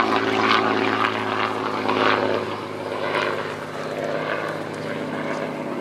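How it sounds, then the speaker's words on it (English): A 1930s Hawker Demon biplane fighter's propeller engine drones at Old Warden, a loud, steady roar with gentle swells as the aircraft moves, easing slightly over the final seconds. "that's the aircraft you see here, the Hawker Demon"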